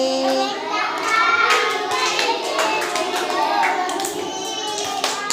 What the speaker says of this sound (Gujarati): અમે તાળી દઈને રમીએ